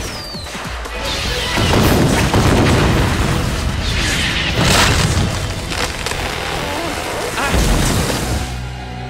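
Cartoon grenade explosions in an animated Teenage Mutant Ninja Turtles episode, several loud booms and crashing blasts in quick succession over a noisy, busy soundtrack.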